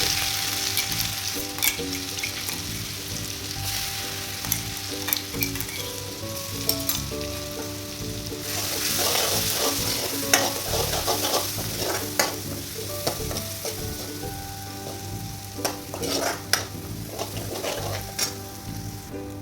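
Bay leaf, cinnamon, cumin and green chilli spit and sizzle in hot oil for kadhi pakoda while a spoon stirs and scrapes the pan in irregular clinks; no one speaks.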